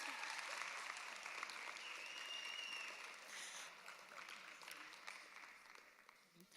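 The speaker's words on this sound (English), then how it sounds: "You can keep clapping, you can keep clapping." Audience applause at a book launch for author and activist Ayanda Allie, a steady wash of clapping from a crowd that fades slightly toward the end, with faint voices mixed in.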